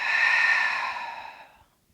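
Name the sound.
breathing out during a Pilates exercise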